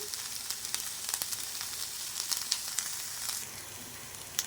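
Onions with a little salt and tamarind sizzle steadily in an oil-filled pan, a soft continuous frying hiss with scattered pops and crackles throughout, fairly quiet and close.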